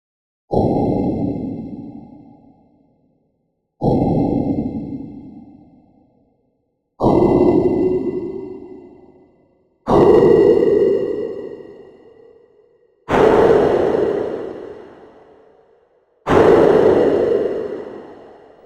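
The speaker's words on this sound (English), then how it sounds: "this is just to give you kind of a washy hit of noise. It's very compressed into a shimmer reverb." Six washy, heavily compressed noise hits from a Soundpaint sound library, evenly spaced, each swelling then fading under a shimmering reverb tail that grows brighter and more tonal with each hit.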